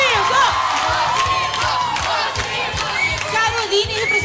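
Children's crowd cheering for Rodrigo at a TV show taping, loud, sustained high-pitched shouting and whooping from many young voices, close and continuous.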